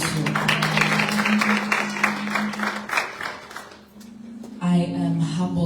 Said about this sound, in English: Can we just clap hands for them also?